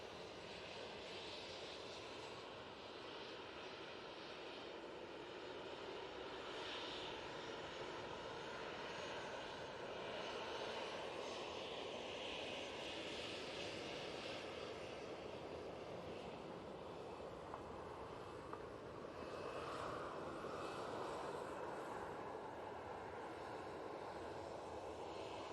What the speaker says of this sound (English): TUI 737-800 will be next on.